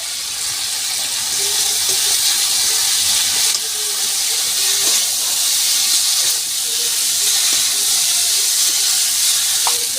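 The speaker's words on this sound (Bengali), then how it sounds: "দেখুন মশলাটা আমার কষানো হয়ে গেছে আমি এবার মাছগুলো দিয়ে দিলাম" Small bata fish sizzle steadily in a pan of cooked-down spiced masala, a loud continuous hiss with faint crackles and no talking.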